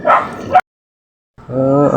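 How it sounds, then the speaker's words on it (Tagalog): A dog barks nearby in a quick burst, falls silent, then barks again in a longer, steadier volley. "aso pala ni Ate Virgie yung nandun"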